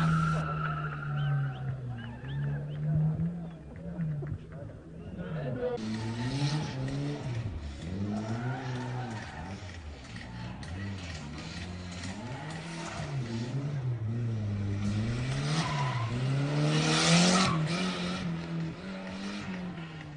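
Drift race cars rev and skid around a competition course, engines wailing and swooping in pitch with tire squeal rising toward the end, loud and continuous.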